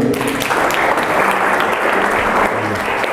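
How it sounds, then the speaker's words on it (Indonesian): A university class applauds together in a lecture room, a loud, close, continuous burst of clapping filling the whole stretch. "Oke, kita beri tepuk tangan dulu."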